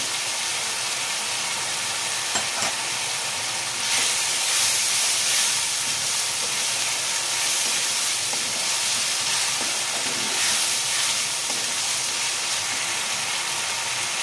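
Ginger paste added to a hot pan while cooking Bengali cabbage ghonto, producing a steady, loud, hissing sizzle that swells briefly a few times over roughly fourteen seconds, with no speech.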